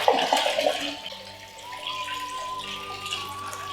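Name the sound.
water filling pot for mead brewing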